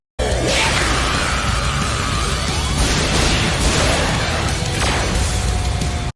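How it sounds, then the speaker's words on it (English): A massive anime explosion erupts as Max Starfall and Hydro Pump collide, a loud, dense roar of rushing blasts and whooshes that carries on without letup for several seconds. "The clash of moves causes a massive explosion, which stops the rain and Gengar returns to normal."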